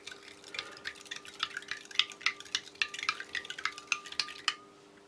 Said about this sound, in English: let's give this lemon another stir